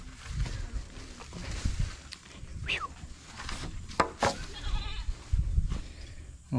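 A goat bleats a few times amid rustling and outdoor background noise, with other animal sounds mixed in.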